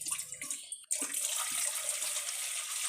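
Milk, one litre, poured into a kitchen vessel, a steady liquid rush starting after a brief clatter and continuing without a break to the end, close and fairly loud.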